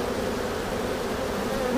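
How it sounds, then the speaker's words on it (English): Honeybees foraging at a hive entrance in eastern North Carolina, a steady dense buzzing hum of many wings close by, continuous and even with no talk. "So the foraging bees are definitely doing their job."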